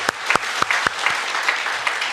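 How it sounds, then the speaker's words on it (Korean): A church congregation at a Korean-language Sunday worship service claps, with a handful of sharp, distinct claps standing out over a softer, thinner spread of clapping across the room. "우리 하나님께 영광의 박수 드리겠습니다"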